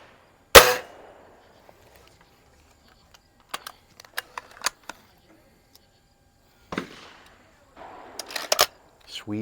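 Anschutz model 335 .177 spring air rifle firing at a range, a sharp close crack near the start followed by scattered clicks and handling knocks, with a few more sharp bursts toward the end.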